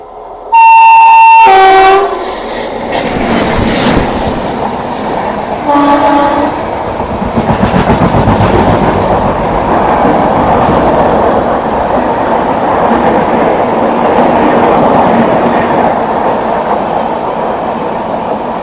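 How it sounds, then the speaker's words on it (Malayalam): The Vivek Express, train 22504, sounds a loud horn as it nears, then thunders past close by, its wagons rattling and clattering over the rails for a long, steady stretch. "അങ്ങ് വിദൂരതയിൽ നിന്ന് നമ്മുടെ വിവേക് എക്സ്പ്രസ് വരാം കേട്ടോ"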